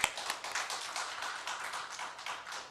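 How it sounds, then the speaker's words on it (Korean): A church congregation claps together in a quick, steady rhythm, the applause dense and fairly close, continuing without pause for a few seconds. "하나님께 영광의 박수 돌리겠습니다."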